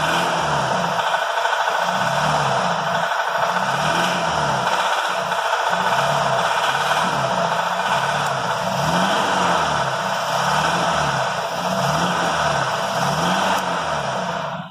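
A BMW engine with a knock runs under light throttle, a steady mid-pitched drone carrying a faint repetitive rattly beat, continuous and close with no talking.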